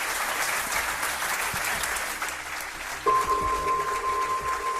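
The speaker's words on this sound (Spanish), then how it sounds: "Un aplauso pido para él." A studio audience applauds a guest on a Spanish radio program about UFO cases. The clapping is continuous and fairly loud, and a steady tone enters partway through as the applause carries on.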